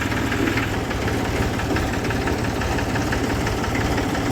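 An old 2002-model tractor engine runs steadily outdoors on a farm, a continuous low diesel chug with a rhythmic knocking beat at constant loudness, with no talk over it.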